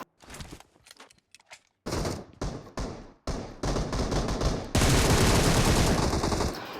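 Gunfire in the mobile battle royale game BGMI: sparse single shots and short bursts, then dense sustained automatic fire, loud and close with no voices.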